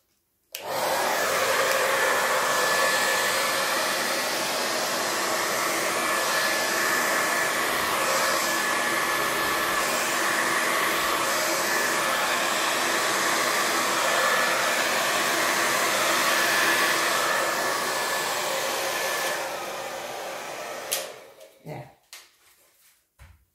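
A hair dryer blows steadily across poured blue, gold and white acrylic paint in a Dutch pour, a loud continuous whoosh lasting about twenty seconds before it cuts off, followed by a few faint handling knocks.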